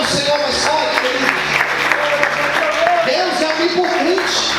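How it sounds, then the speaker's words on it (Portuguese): Church congregation applauding loudly, a dense wash of clapping with scattered cheers filling the room, while voices speak over it. "Aplauda o Senhor mais forte, querido."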